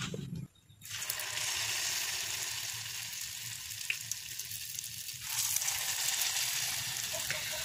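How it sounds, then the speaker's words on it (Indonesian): Pieces of snack dough sizzle in hot oil in a wok over medium-low heat, a steady crackling hiss that starts after a brief quiet moment and grows stronger and brighter near the end. "kita ambil adonannya ini untuk digoreng ke dalam wajan satu per satu"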